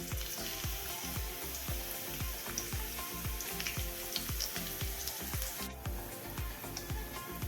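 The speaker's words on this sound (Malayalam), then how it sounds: "നമ്മൾ മിക്സ്ചർ ഉണ്ടാക്കിയ എണ്ണയിൽ തന്നെ കുറച്ച് വെളുത്തുള്ളിയും കറിവേപ്പിലയും കൂടി ഇട്ട് വറുത്തെടുക്കുന്നുണ്ട്" Garlic and curry leaves fry steadily in hot oil left over from making a gram-flour mixture snack, a dense continuous sizzle with rhythmic stirring scrapes and crackles throughout, close and fairly loud with no talking.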